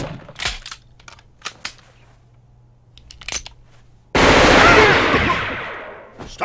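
Gunfire on a rooftop in a police confrontation: several sharp, isolated shots crack close by, then a sudden loud sustained burst of rapid automatic fire takes over.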